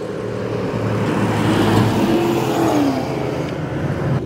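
A Ford Mustang at the Mustang Week 2023 car meet revs its engine nearby in a loud, sustained roar that rises in pitch mid-way and then settles, amid crowd ambience.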